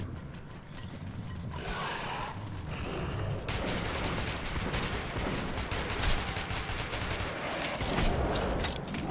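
Dense, continuous automatic gunfire from the shooter game Metro 2033 Redux, rapid bursts filling the clip at steady loudness with mechanical weapon clatter and no talk.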